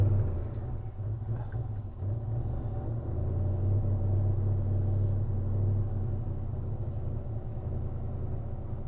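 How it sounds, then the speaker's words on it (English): A car with a clutch, parked a long time with the heaters on, being cranked to start: a steady low engine rumble and churning drone runs throughout, with a faint metallic jingle near the start, and no talk. "fire up the car"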